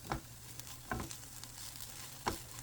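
Brown sugar and coriander toasting in a pan for a cherry chutney, with a soft steady sizzle broken by a few scraping stirs, close and quiet.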